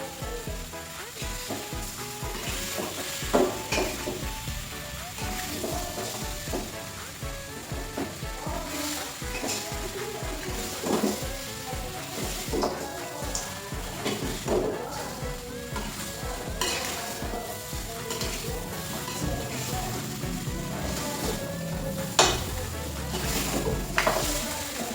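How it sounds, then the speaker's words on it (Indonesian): Tongseng meat with spices stirred slowly in a hot pan, with a steady sizzle and frying crackle under repeated scraping and clinking strokes of a utensil, close and continuous throughout. "Dipastikan mengaduk dengan begitu pelan agar tidak tumpahan dan agar merata bumbunya."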